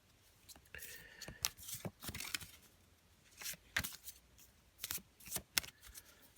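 Tarot cards shuffled close by in quick papery bursts, riffling and slapping in an uneven rhythm, fairly soft.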